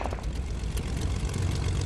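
A plane engine in the video game Fortnite drones steadily at close range, a low, even propeller-like hum with no talk over it.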